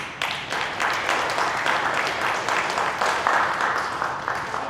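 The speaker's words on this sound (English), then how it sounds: "How about a round of applause for our school board candidates?" Audience applause at a community candidate forum in McAllister Hall, greeting school board candidates; steady, dense clapping fills the room for several seconds at even loudness with no talk over it.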